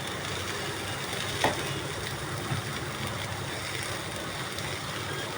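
Tomato mixture poured into a hot pan for tomato roast gives a steady, soft sizzle with a couple of faint clinks, close and quiet, no voices.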